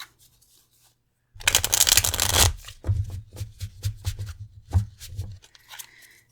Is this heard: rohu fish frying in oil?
no